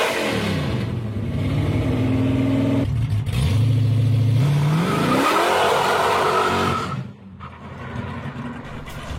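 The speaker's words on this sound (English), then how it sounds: "This is a Toyota MR2, which is powered by a Kinner R55 radial plane engine." A Toyota MR2 powered by a Kinner R55 radial aircraft engine revs hard, its deep rumbling drone rising and falling in pitch through repeated throttle sweeps, loud and close, before easing off near the end.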